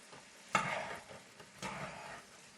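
Bratwurst sausages browning in a lightly oiled, salted frying pan give a soft, fairly quiet sizzle with two brief louder bursts of stirring or shifting in the pan.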